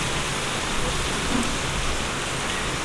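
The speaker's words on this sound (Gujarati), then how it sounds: "કેટલો વરસાદ છે શેરીમાં, પાણી તણાઈને જાય હો।" Heavy rain pours steadily onto a village street in Gujarat as water runs along it, a dense, loud, unbroken hiss with no pauses.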